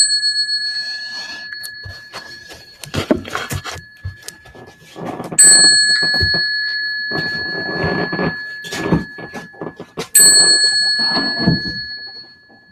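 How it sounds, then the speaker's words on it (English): A meditation bell is struck three times, each ring a bright sustained tone that decays slowly, with soft rustling and movement in a quiet room between strikes. "with the sound of the bell, let's feel our merit resonate"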